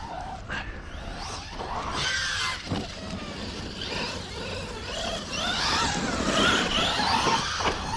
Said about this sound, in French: Là j'ai pilé,